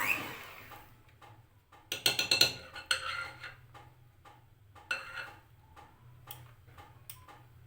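Spoon tapping and scraping around a bowl while mixing bhaliyan batter after a pinch of food colour is added, giving a ticking, clinking rhythm with a few brighter bursts, fairly quiet and alone without talk.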